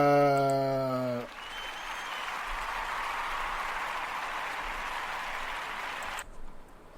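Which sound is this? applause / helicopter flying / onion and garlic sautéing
applause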